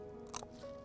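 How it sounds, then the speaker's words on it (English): A single crisp crunch as teeth bite into a fresh young radish, a brief close burst of cracking lasting a fraction of a second over a quiet steady background hum. "nice and young like this, they've got a real irresistible crunch to them"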